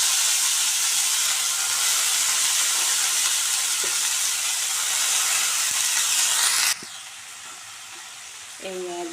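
Papaya flowers dropped into hot oil with fried onions sizzle loudly and steadily, a dense frying hiss that cuts off sharply near the end into quieter crackling and a brief clink.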